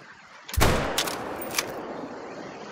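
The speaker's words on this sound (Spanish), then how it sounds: "Le voy a pegar un tiro con el nuevo rifle." A rifle shot at an animal in the hunting game theHunter: Call of the Wild cracks sharply, followed by a couple of fainter echoing reports that trail off into a quiet outdoor ambience.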